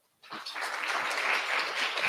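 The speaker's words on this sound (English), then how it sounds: "please give them a round of applause" Audience applause at a mental health forum, a dense wash of many hands clapping that starts abruptly after a brief silence and holds steady and fairly loud throughout.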